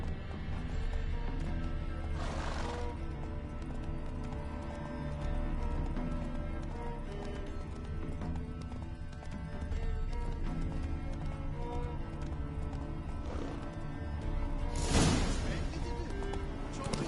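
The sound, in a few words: horse hooves galloping in a video game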